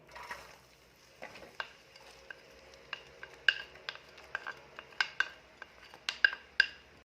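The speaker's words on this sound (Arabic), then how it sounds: "هنايا نجيبو مقله نحطو فيها شويه زيت، بعد نلوحو لها البصله والثوم" Onion and garlic fry in a little oil in a pan while a utensil stirs, sharp scraping clicks and taps against the metal over a faint quiet sizzle, close, irregular, growing busier toward the end.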